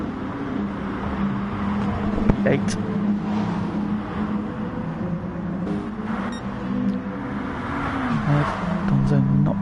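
GT2 race cars, including an Alfa Romeo and a Citroen, racing in GT Sport, a continuous loud engine drone with shifting revs under steady commentary from a man.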